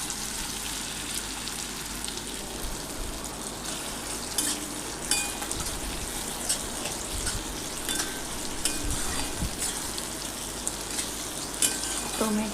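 Tomatoes sautéing in a pan for rava upma, a steady close sizzle and frying hiss with occasional stirring scrapes running throughout.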